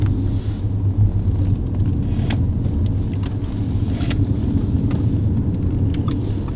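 An Audi A5 Sportback TFSI Quattro accelerating at partial throttle, a steady low engine rumble and road roar from inside the car with a few faint clicks, no talk.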